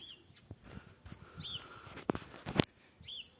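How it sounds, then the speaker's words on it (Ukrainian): Sparrows chirp and call outdoors in early spring after snow and frost, a few short scattered tweets at moderate distance over quiet background, with a couple of louder sharp chirps near the end. "Роблять перекличку всюди сущі горобці"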